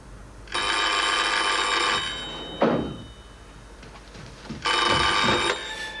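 A telephone's bell rings in two long bursts, close and clear, with a soft thunk between them and no talking, indoors in a 1981 French film.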